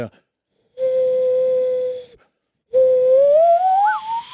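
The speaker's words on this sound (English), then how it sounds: "I can whistle it out" A person whistles two sustained notes separated by a short pause, the second note gliding upward with a quick wavering flourish at the end, close and clear.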